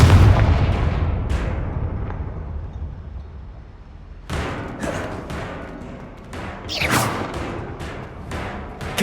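Confringo fire-spell blasts from Hogwarts Legacy, several loud explosive booms with whooshing bursts arriving in an uneven sequence, strongest at the start and again midway.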